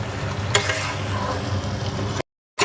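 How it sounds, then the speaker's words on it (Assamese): Goat meat and potato pieces frying in a pan give a steady, close, dense sizzle, with one sharp utensil clack early on and a brief silent gap just before the end. "মাংস আলু ভাজি আছোঁ"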